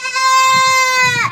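A goat on a goat farm lets out a single loud, close, wavering bleat that lasts about a second and ends with a rising break.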